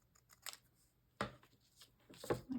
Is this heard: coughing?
no